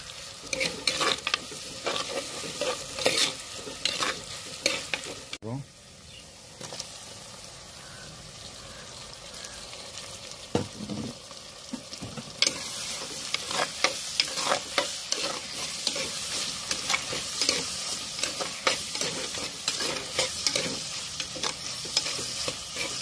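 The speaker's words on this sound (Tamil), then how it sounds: "ஆனியன் சீக்கிரம் வதங்கிறதுக்காண்டி கொஞ்சோண்டு உப்பு போட்டுக்கலாம்" Onions with a pinch of salt sauté in a pan for a South Indian sankara fish curry: a soft, steady sizzle broken by repeated scraping stirs of a spoon against the pan.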